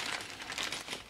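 Box packaging of a Revell Snap Tite Millennium Falcon model kit being opened, with soft, quiet crinkling and rustling of plastic and cardboard in a brief close-up burst.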